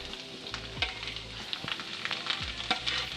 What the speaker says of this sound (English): Parsley sizzles, guys.